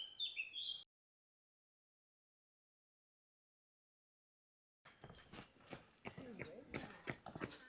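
Horse hooves clip-clopping on a trail near Bottoms Reservoir in the Peak District, a run of sharp irregular knocks close by after a stretch of silence, with bird chirps at the start.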